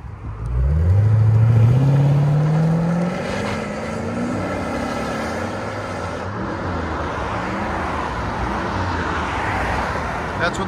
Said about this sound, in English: Valvetronics on the Lexus RCF. This is with the valves closed.